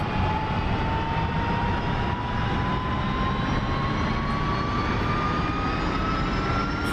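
The turbine engine of a UH-1 Huey helicopter in the DCS flight simulator spools up during a cold start, a loud, continuous whine whose pitch rises steadily over a deep rumble.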